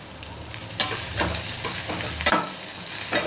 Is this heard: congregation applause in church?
no